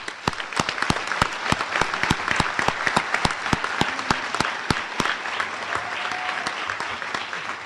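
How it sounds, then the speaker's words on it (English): A crowd applauds steadily, many hands clapping at once with sharp individual claps standing out, sustained the whole time. "they deserve another round of applause."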